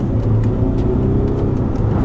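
A Range Rover launches hard from a standstill in a drag run, its engine giving a loud, close, steady roar that holds throughout with no voices.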